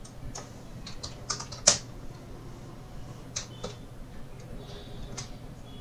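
Sparse, soft keystrokes on a computer keyboard while writing an SQL query: scattered light clicks and a few sharper taps, fairly quiet and with no talking.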